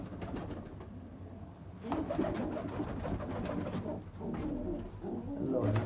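Pigeons, including a red Chinese hen, coo in low, throaty bursts amid rustling and occasional fluttering, with a steady low hum underneath.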